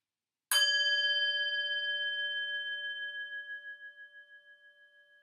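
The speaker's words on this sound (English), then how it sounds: "begin by ringing a bell." A meditation bell struck once, ringing out clear and sustained with a long, slowly wavering decay in an otherwise silent room.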